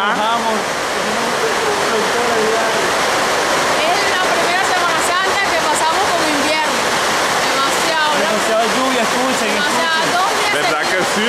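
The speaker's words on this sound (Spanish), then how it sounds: "Demasiada agua está cayendo en este momento aquí en el terminal La Victoria" A heavy tropical downpour hammers down at La Victoria bus terminal in Maracay, a loud, dense, unbroken roar of falling water, with someone talking over it.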